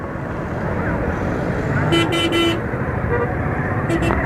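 A motorcycle rides through crowded traffic near a busy animal market, its engine a steady rumble under dense road noise while several car horns toot in short bursts nearby; someone talks over it.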